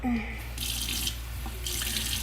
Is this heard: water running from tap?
yes